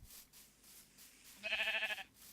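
A sheep in a Minecraft modpack game gives a single short, wavering bleat partway through, clear and close over a soft background hum.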